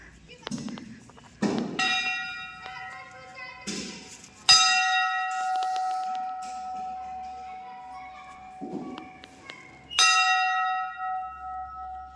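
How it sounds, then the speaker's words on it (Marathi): A temple bell in Bopegaon is struck a few times, each strike ringing out and slowly fading, with a few voices heard between strikes. "घंटी वाजव की"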